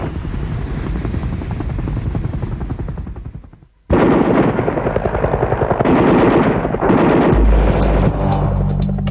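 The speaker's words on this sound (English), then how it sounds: "At LZ X-ray, heavy enemy fire strafed the landing zone" A UH-1 Huey helicopter's loud rotor thumps over a landing zone as heavy gunfire strafes it. The dense roar cuts out briefly, then returns even louder with bursts of shots.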